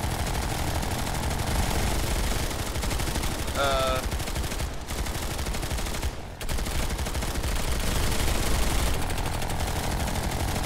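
Gunfire from a shooting training drill crackles in steady bursts across the range, loud and continuous, with a brief break near the middle and a faint whistle-like tone sounding partway through.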